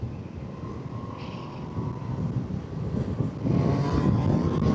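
Steady low engine rumble of a 2025 Triumph Tiger 800 Sport motorcycle on a test ride in road mode, with wind noise, rising slightly toward the end as the motorcycle speeds up.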